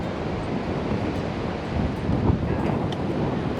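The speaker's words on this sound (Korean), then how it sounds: "파도가 좀 있어서" Ocean waves roll in at a beach where people are surfing, a loud, continuous rushing surf mixed with gusts of wind buffeting the microphone.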